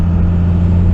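A Cummins diesel truck engine revs loud and close, a steady low rumble dropping back to smoke out a Prius behind it, with no voices.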